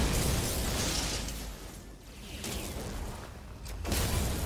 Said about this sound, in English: Can you guys just cooperate with the explosions?